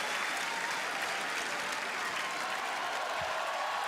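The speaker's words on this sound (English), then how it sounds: "He wants to hear a bit more from the crowd. And they respond in unison." A Wimbledon Centre Court crowd roaring and applauding in unison, a dense, sustained wall of cheering and clapping filling the whole stretch without letting up.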